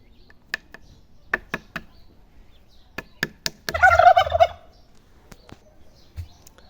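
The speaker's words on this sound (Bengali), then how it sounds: "মেয়ে টার্কিটা এখানে আছে, মাঝে মধ্যে পেখম তুলে নাক দিয়ে শব্দ করছে" A female turkey, its tail fanned, gives a series of sharp, close clicks and then one short, rattling gobble burst before a few more isolated clicks.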